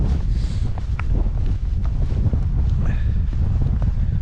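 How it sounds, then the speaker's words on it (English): Gusty wind buffets the microphone on a stony mountain path, a steady rough rumble with faint footsteps and brief voices underneath. "It's very windy, cold."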